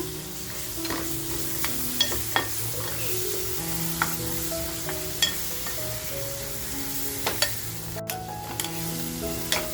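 Tomatoes and salt go into a pan of sizzling homemade masala, giving a steady frying hiss broken by repeated scraping stirs and clinks of a spoon against the pan, heard up close with no talk.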